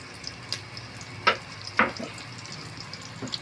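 Garlic frying in a pan gives a low steady sizzle with a few brief clattering stirs, heard close and moderately loud with no one talking.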